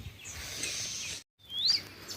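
Small kingfisher with peacock-blue plumage giving thin, high chirps in an open farm field, a brief sharp call standing out after a short quiet gap, alone without voices.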